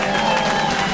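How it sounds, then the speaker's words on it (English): Studio audience applause at a comedy chat show, a steady dense wash of clapping filling the whole moment at moderate loudness, with no clear pauses. "Let's hear a round of applause for God."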